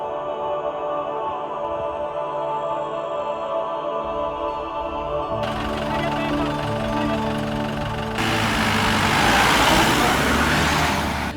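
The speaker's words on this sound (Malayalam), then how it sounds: "ഇതുപോലെ ജീപ്പുകൾ പോകുന്നുണ്ടാവും, അതിലാൾക്കാർ കയറി പോകുന്നു" A jeep engine runs steadily on a hillside village road among terraced farms, a continuous motor drone that swells louder and rougher toward the end as the vehicle nears or accelerates.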